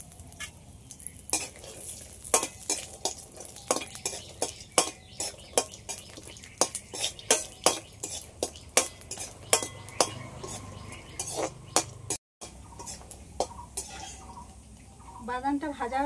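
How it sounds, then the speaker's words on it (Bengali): Raw peanuts fry in hot oil while a spoon scrapes and clinks against the pan in a steady stirring rhythm, a soft sizzle running beneath, with a brief pause near the end. "এই একই তেলের মধ্যে কিছুটা কাঁচা বাদাম ভেজে নেব।"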